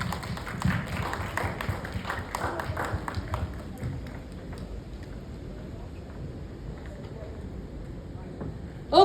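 An audience at a press conference applauds to welcome a musician. A burst of clapping fades over a few seconds into quieter room noise.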